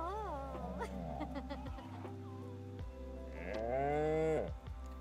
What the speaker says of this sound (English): I love when the cows like jump for joy